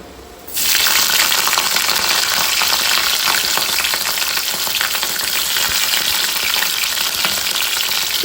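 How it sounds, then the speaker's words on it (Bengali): Cauliflower frying in hot oil, a loud, steady, crackling sizzle that begins abruptly and continues close up without a break, with no voices. "ফুলকপিগুলো একটু ভালো করে না ভেজে নিলে হবে না"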